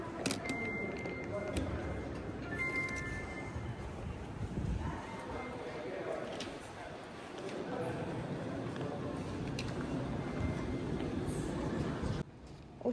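A metro train ride from the station to campus: a continuous low rumble and rattle of the moving carriage, with brief high tones and clicks. Voices are faintly present over the steady noise.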